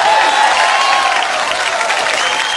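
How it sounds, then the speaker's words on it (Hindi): Loud, sustained applause from a large audience at a Bollywood award show fills the room, a dense continuous wash of clapping with a few faint cheers. "एक बार अनिल कपूर साहब के लिए जोरदार तालियां।"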